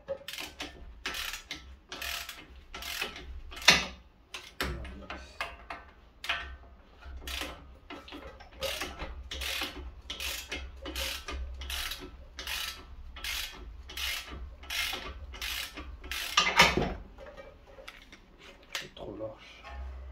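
On a Nissan, a wrench loosens a nut on a front suspension ball joint, giving a long run of regular, sharp ratcheting clicks close by, with a few louder clacks and someone speaking quietly in between.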